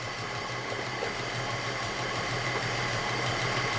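A BMW M30 3.7-litre stroker engine in an E34 idles on a standalone ECU, a steady low rumbling drone with a faint pulsing throb, continuous and even throughout, heard close with no talking.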